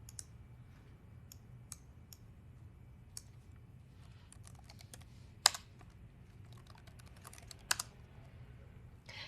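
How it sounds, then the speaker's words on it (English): Keys on a computer keyboard typed in quick irregular bursts while entering a hostname, fairly close and clear over a low steady hum, with a couple of sharper louder key strikes near the end. "type in the hostname or IP address of the computer you want to connect to"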